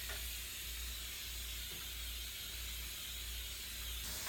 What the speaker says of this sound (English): So I'm just going to do it with my Pam cooking spray